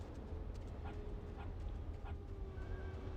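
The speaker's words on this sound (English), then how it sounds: "I didn't mean to shoot the dog" A dog whimpering in the Metal Gear Solid Twin Snakes video game after being shot, heard as faint, brief whines over a steady low game background with no talk.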